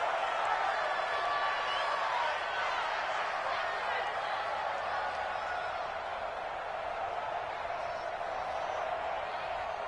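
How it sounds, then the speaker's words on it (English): A stadium crowd in an American football video game on PS4 roars steadily as a big third down approaches, a dense continuous wash of cheering with a commentator talking over it. "the crowd getting into it as we come up on a big third down"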